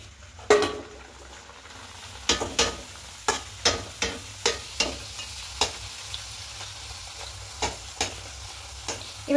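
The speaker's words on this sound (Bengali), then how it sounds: "এদিকে একটা কড়াই বসিয়ে তেল দিয়েছি, তেলটা গরম হয়ে গেছে। এবার একে একে ভেজে নেবে এগুলো সব।" Peas kachori sizzle in hot oil in a kadai while a metal spoon taps and scrapes the pan in a regular series of about a dozen crisp clicks over a low continuous frying hiss, close by and without speech.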